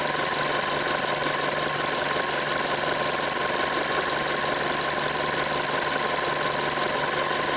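A Chevy Sonic engine idling steadily, a constant low hum with a faint whine held at even level, with no talk over it.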